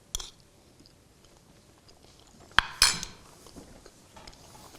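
A spoon clinks sharply against a dish as someone eats hot Crimean Tatar fultu. Quiet chewing follows and continues faintly around the clinks.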